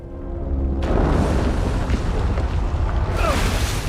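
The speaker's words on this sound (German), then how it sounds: "Oder da schießen Kanonen." Cannons boom in the video game Uncharted 4, a sudden heavy blast that swells into a loud, rumbling roar with wind and water noise, then a second burst near the end, with no talking.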